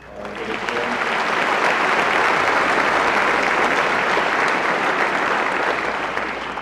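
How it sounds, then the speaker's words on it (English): Sustained applause from an audience for a band, steady dense clapping throughout with no voices over it. "I got to give a round of applause to the band"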